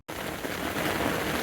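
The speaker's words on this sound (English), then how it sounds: "Fucking gale force winds, sleet, rain and hail." Rain lashing down at a lake in gale-force winds with sleet and hail, a dense, loud, continuous hiss of drops and gusts that starts abruptly and holds steady throughout, with no voices.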